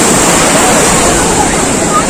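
Big ocean waves surging at Puri beach, a steady loud roar of surf and wind noise filling the whole clip without a break.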